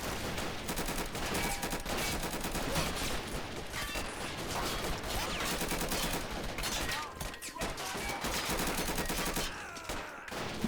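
Dense, continuous gunfire in a war video game battle, with overlapping rapid bursts and heavier blasts filling the whole stretch and a faint voice underneath.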